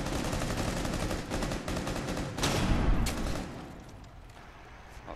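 Bursts of rapid gunfire from a Rainbow Six Siege ranked match, with close, dense automatic shots and a few louder single cracks before the firing fades.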